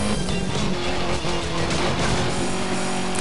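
A Marussia B2 car drives in Need for Speed Most Wanted, its engine a steady, loud droning whine with a continuous, even roar and no pauses.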